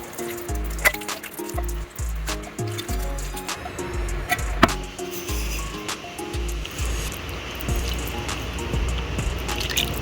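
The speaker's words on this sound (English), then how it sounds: "I'm going to try to do this with one hand, pour it in here" Tomato soup is poured one-handed through a kitchen strainer, giving irregular liquid splashes, drips and clinks close by for several seconds.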